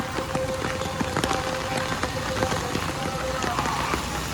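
Monsoon rain falls in Surat, a steady, even patter of drops on hard surfaces that runs unbroken from start to finish, with faint background sounds under it.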